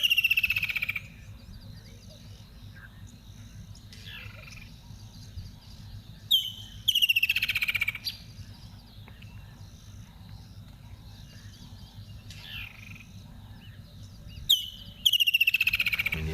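Wild birds in a hot-season safari setting call intermittently: a few bright, rising whistled calls stand out at intervals over a quiet, steady background hum, fairly clear but not very close.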